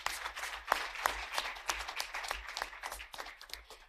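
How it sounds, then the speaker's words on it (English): An audience at a panel discussion applauds a speaker coming up, a steady wash of many hands clapping at moderate volume for several seconds. "Let's give Omashani a big round of applause as she comes up."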